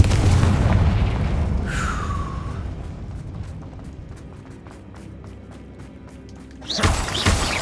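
Confringo fire spell exploding in the video game Hogwarts Legacy, a loud booming blast with a whooshing tail, followed by scattered crackles and debris and then a second heavy burst at the end.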